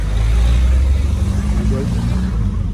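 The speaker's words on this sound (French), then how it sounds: "Ah, une petite Peugeot." A small Peugeot car drives by at a city square, its engine a low steady rumble mixed with street noise while people talk over it.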